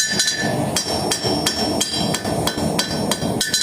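A blacksmith hammers a nail on a fresh anvil, ringing metallic strikes landing in a steady rhythm of roughly three per second, close and loud with no voices.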